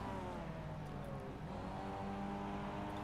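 Spec-5 race cars circulating at Phillip Island circuit, several engines droning and shifting pitch together as they close on the final corner, a continuous dense mechanical roar with no pauses.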